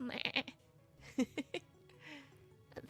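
Several short video game sheep bleats, clear and fairly close, coming in quick clusters with brief pauses between them.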